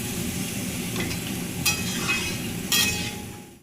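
A spoon stirs a fish curry in a pan just after water goes in, making gentle scraping strokes over a soft simmering sizzle, with two brighter scrapes standing out and no talking.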